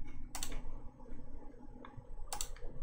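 A few isolated key presses on a Kinesis Advantage keyboard retrofitted with Cherry ML switches, quiet crisp clicks spaced apart with no voices.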